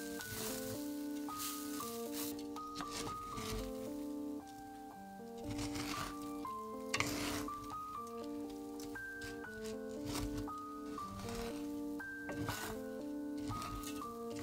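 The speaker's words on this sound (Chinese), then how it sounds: "再加2大勺老抽，把米炒上色，炒2-3分钟" Rice stir-fried in a wok with dark soy sauce gives a soft, steady sizzle and scattered crackles under background music, continuing evenly throughout.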